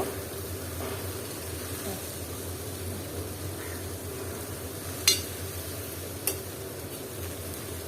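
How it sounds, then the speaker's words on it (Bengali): Coriander leaves fry lightly in a little oil with a soft, steady sizzle and stirring, close by, broken by two sharp utensil taps against the pan. "ধনে পাতাটা আমি একটু হালকা তেলে নিয়ে একটা বাটিতে নিয়ে নিব"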